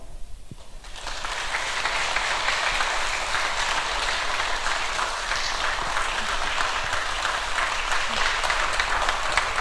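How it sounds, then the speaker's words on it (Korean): A church congregation applauds during a Sunday teacher-dedication service, honouring a teacher's award. After a brief quiet opening, dense, sustained clapping fills the room and holds steady to the end, with no voices over it. "더 큰 박수로 축하드리겠습니다."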